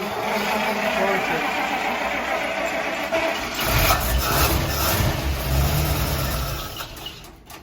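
A 1948 Buick Roadmaster Woodie estate wagon runs on fuel added straight to the engine. A low, rough rumble rises about halfway through and holds steady beneath constant broadband background noise.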